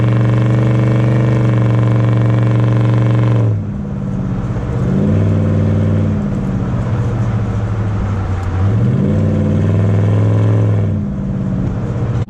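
Tailpipe exhaust from a truck with a 3400 stall converter while towing a load, a loud steady droning engine note that falls away and then rises and dips with throttle changes, with no talking over it.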